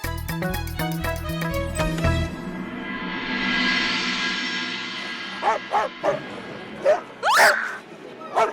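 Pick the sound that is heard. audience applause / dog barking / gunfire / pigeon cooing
dog barking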